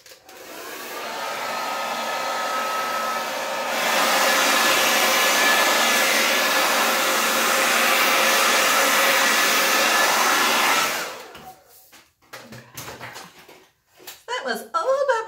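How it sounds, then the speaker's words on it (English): A hair dryer blows over acrylic pour paint with a steady loud whoosh, stepping up to a higher setting partway, then cuts off, followed by clattering handling noises. "I am going to use the hairdryer"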